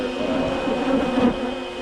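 A dense swarm of honeybees drones steadily up close during a bee removal, a continuous buzzing hum with no talking.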